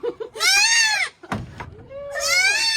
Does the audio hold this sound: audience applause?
no